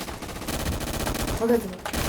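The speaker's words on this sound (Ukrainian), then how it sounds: "А я по Морозову стріляю вже." Rapid bursts of gunfire in a Roblox military shooter game, loud and continuous, with a voice talking underneath.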